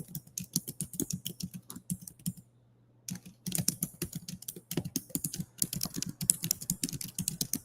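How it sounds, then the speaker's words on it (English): Rapid clacking of keys on a computer keyboard, close and busy, with one brief pause before the typing resumes. "I'm just typing that."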